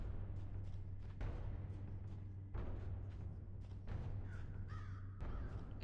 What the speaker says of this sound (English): I'm hearing a crow.